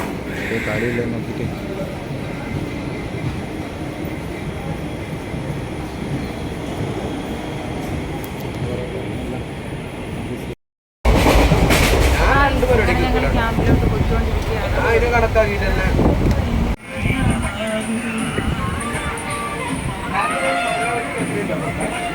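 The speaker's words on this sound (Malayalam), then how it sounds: "ഞങ്ങൾക്ക് പോകാനുള്ള ട്രെയിൻ എത്തിക്കഴിഞ്ഞു ഇനി നമ്മൾ ഉടനെ കയറുന്നതായിരിക്കും" A train arrives and runs through a station, producing a loud, continuous rumble and roar that swells sharply partway through, with background voices and brief breaks in the sound.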